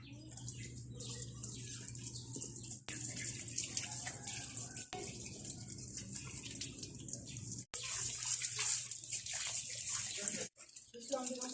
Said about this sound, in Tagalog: samahan niyo akong banlawan ko yung aking paa